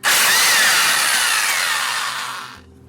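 A cheap Chicago Electric impact wrench from Harbor Freight whirs loudly and harshly for about two and a half seconds while loosening a Toyota Tacoma differential drain plug, then cuts off abruptly into quiet.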